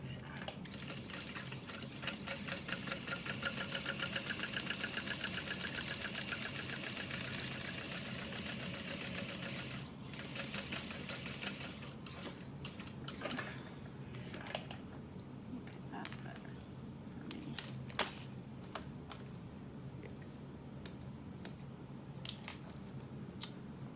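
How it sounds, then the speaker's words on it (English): Machine top stitching along the edge of a clutch wallet from the outside, a steady mechanical whir for roughly the first ten seconds, then quieter handling with a few sharp clicks. "And then I am gonna top stitch right along there"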